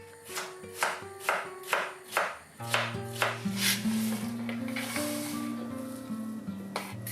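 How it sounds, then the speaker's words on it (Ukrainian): A knife chops cabbage quickly in a steady rhythm on a board, about six crisp strokes, then gives way to a looser rustling and scraping of the shredded cabbage. "Бачите, як вона гарненько нашинковує капусту."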